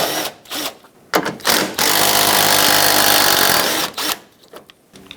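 A power tool drives out 10mm bolts along the top of the grille on a 2007-2014 Chevrolet Silverado 2500HD: a loud, steady whir for about two seconds, framed by shorter bursts and clicks before and after.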